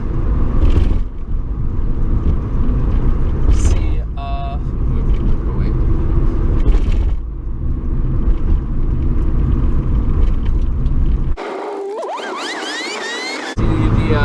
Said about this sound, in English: Rumble strips. Oh, we're rumbling, boys.